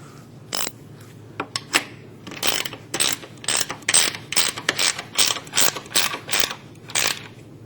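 Speed wrench tightening a nut onto a bolt during a wall-panel installation, giving rapid bursts of ratcheting clicks in repeated runs, close and crisp with no voices.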